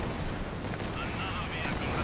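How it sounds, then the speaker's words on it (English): An airstrike hitting a Panzer IV tank in Company of Heroes 2, heard as a continuous rumbling barrage of explosions and gunfire with loud battle noise throughout and a faint voice underneath. "An airstrike hitting the Panzer IV."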